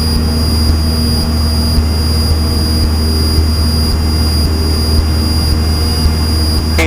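Steady droning Cessna engine heard from inside the cockpit during a training flight near Apple Valley, a loud constant hum with tonal whine and no speech over it.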